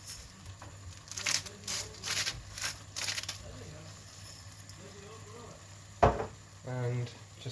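A vegetable stir fry is mixed in a pan, with soft sizzling and intermittent scraping strokes, one sharp clank and a brief clattering rattle near the end, fairly quiet overall.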